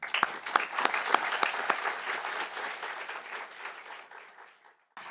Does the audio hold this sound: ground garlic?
no